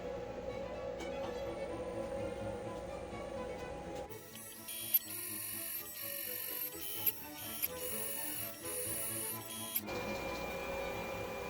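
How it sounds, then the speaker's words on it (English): A FoxAlien Vasto CNC router finish-boring holes in aluminum, a faint low machine hum giving way to a busy clicking, ticking mechanical run for several seconds with a few sharp louder ticks, before the quieter hum returns. "hopefully the finish boring operation will take out that bottom skin"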